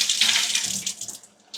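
Cooked dry beans drain in a kitchen sink, giving a close hissing, splashing rush of water that tapers off over a second and a half.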